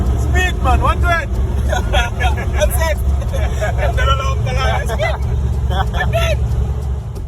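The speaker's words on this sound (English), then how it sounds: "It's my everyday car." A person's everyday car cruising at speed, with a steady low engine and road rumble running throughout. Voices chatter and exclaim over the drone.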